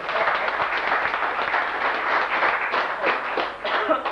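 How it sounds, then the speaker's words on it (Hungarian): Applause at a 2006 carriage-driving competition award ceremony in Csetény, Hungary: a dense, steady wash of many hands clapping for the full length, fairly loud and close, with no clear voices on top. "Tapsoljuk meg!"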